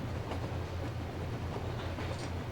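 A train rolling along in the game Metro Exodus, a steady low rumble of wheels and carriage with faint rhythmic clatter, continuous and moderately close.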